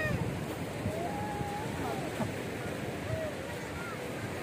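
Sea waves wash on a beach as a steady, moderate roar of surf with some wind, and faint voices carry in the background.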